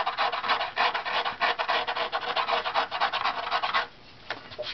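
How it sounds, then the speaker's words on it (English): A thin wooden instrument strip is sanded or scraped in quick, rhythmic back-and-forth strokes, close and fairly loud for about four seconds before stopping, followed by a couple of light scrapes. "So just evenly scrape or sand that."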